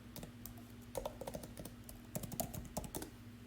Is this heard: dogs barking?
no